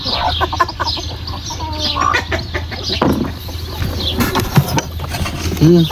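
Chickens cluck repeatedly and close by, a busy overlapping flock chatter with a few sharper squawks throughout.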